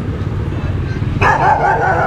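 A dog goes off barking at a barung, a repeated burst of yapping and barks that starts midway, close and loud over a steady outdoor background, with someone talking.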